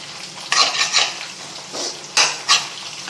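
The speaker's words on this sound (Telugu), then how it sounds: "ఈ మసాలాలో ఇప్పుడు మనం ఈ వేయించి పెట్టుకున్న ఈ దొండకాయ ముక్కలన్నీ కూడా వేసుకోవాలి" Fried ivy gourd pieces are tipped into sizzling masala in a pan, with a few clattering scrapes and bursts of frying, close and without speech.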